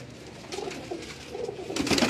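A pigeon held in the hand coos softly in a rooftop setting, a few low burbling calls close by, with a brief fluttery rustle toward the end and no voices over it.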